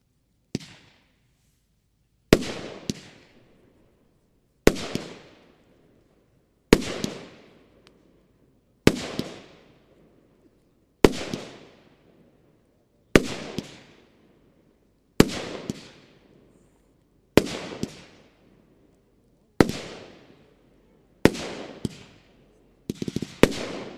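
A Bonfireworks Shiny Golden Times 25 mm 16-shot firework battery firing outdoors: loud, sharp launch bursts in a steady sequence roughly every two seconds, each followed by a crackling tail, with no voices.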